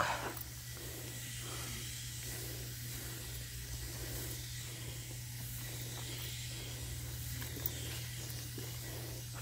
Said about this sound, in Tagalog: Yung ini-spray ko na to, may kasama yan panglamok.